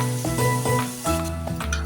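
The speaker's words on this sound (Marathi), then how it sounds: "हे छान परतवूया आणि आपला कांदा ना थोडा शिजू दे." Two small onions sautéing in a pan for home cooking give off a steady, close sizzle that runs unbroken, with a faint tonal hum in the background and no voices.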